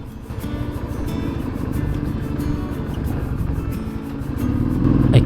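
Motorcycle engine droning steadily up a high mountain road toward Gurudongmar Lake at 17,800 ft, a loud close rumble with continuous wind and road noise that swells slightly toward the end.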